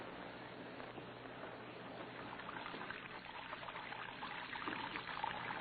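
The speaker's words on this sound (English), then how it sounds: "watching water pouring from his wash basin to the cell floor" Water pours steadily from a wash basin onto a jail cell floor, making a faint, continuous splashing trickle that runs unbroken and slightly swells toward the end, with no voices.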